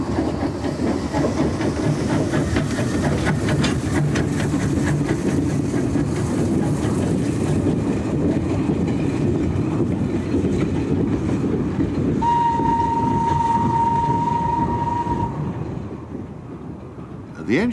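Steady rumbling steam locomotive noise with hissing steam and rhythmic clatter runs throughout on the Middleton Railway in Leeds, 1990, a short whistle tone sounding near the end.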